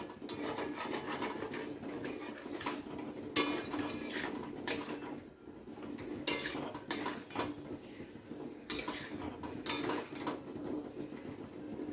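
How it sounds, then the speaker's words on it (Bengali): A spoon scrapes and stirs potato and pointed gourd masala in a pan with a little water, irregular close rubbing and clinking of metal against the pan, fairly quiet and without talk. "তো জলটা দিয়ে খুব ভালোভাবে একবার কষিয়ে নিচ্ছি।"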